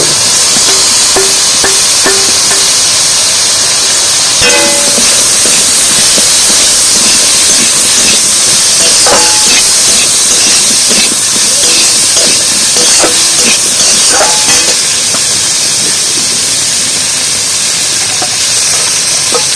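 Boiled bamboo shoots hit a hot pan in a home kitchen, giving a loud, steady steam hiss and sizzle that runs unbroken throughout, with scattered clinks and stirring scrapes on top.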